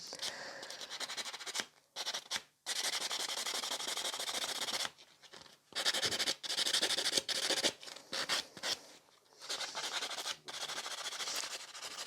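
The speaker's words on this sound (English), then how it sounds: "Keep buffing till you're really satisfied." A nail buffer is rubbed across fingernails in close, brisk scratchy strokes, broken by short pauses, with no talking.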